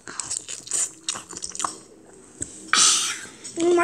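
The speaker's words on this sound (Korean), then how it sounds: "무비빔밥 먹어보겠습니다" A child eats radish bibimbap up close, with wet chewing, soft crunches and smacking bites in an irregular rhythm, plus a louder burst of rustling near the end.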